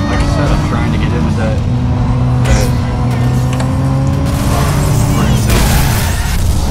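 A car engine in a racing video game drones steadily, loud and close, and its pitch shifts as it revs and accelerates. Voices seem to come through over the engine.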